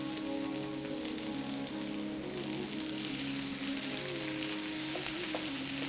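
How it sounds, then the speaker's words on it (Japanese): Onions fry over medium heat in a pan, giving a continuous soft sizzle and crackle close by, steady in level with a faint low hum underneath. "玉ねぎがしんなりするまで少し炒めてあげましょう"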